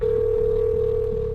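A telephone rings or sounds with a single sustained steady tone lasting over a second, clear and close, over a low background hum, then cuts off.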